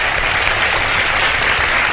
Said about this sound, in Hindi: तीनों पार्टिसिपेंट्स के लिए बहुत सारी तालियां